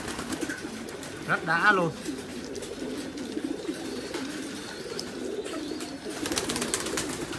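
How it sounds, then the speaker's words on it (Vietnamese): Thai titan meat pigeons coo in a low, throaty burst near the start, and someone talks over the coop background for the rest of the clip. "Còn chim bồ câu titan thái siêu thịt thì là một cái dòng của nó là cực kỳ tuyệt vời rồi"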